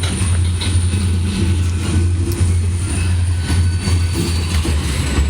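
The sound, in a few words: freight train with tankers moving at Miller station, Ohio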